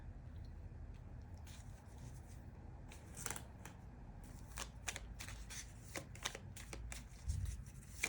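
Tarot cards are shuffled by hand indoors, giving quiet bursts of riffling and flicking that come in irregular clusters, close up with no talking.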